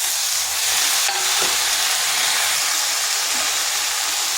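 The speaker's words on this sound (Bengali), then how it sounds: "বেগুনগুলো হালকা ভেজে নিয়েছি এরপর দিয়ে দিচ্ছি শাকগুলো" Spinach dropped into a pan of lightly fried eggplant sets off a loud, dense hiss of sizzling oil and steam that holds steady throughout, close by with a brief stirring knock near the start.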